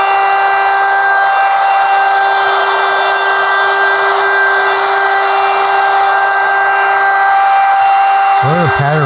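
A handheld router cuts into a wooden tray blank, giving a loud, steady high-pitched whine with a rough grinding edge that holds throughout, then winds down at the very end.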